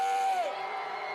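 Massed shouting from an anti-impeachment rally crowd at Park Chung-hee Plaza, Dongdaegu Station, Daegu: a brief, loud, dense roar of many voices with one prominent yell sliding downward.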